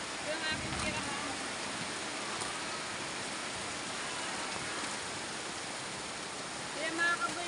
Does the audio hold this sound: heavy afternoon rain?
yes